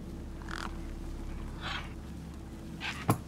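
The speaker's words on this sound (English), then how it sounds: "Look at the freaking birds." Crows caw in the video game Beyond a Steel Sky, three or four hoarse calls spaced over a low ambient hum, fairly faint and distant, with a sharp thump near the end.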